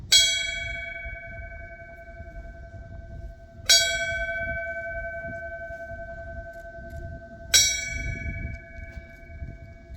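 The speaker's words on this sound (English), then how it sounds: "the bell rings 3 times in memory of and in tribute to their life and service." A memorial bell at a Tunnel to Towers ceremony in Portland, Indiana, is struck three times at even intervals. Each clear, ringing tone decays slowly over a low outdoor rumble, with no talking.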